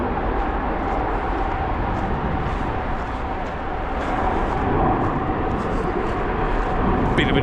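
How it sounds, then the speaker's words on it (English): A large airplane takes off from a nearby airport, a loud, steady broadband jet roar that fills the whole clip with a slight swell in the middle and toward the end. "Wow, big plane takeoff."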